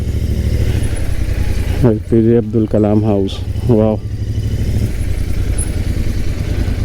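A motorcycle idles and rumbles nearby while it is being parked on a road trip stop outside a house. The engine is steady under a man's speech.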